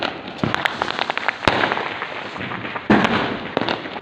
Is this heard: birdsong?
no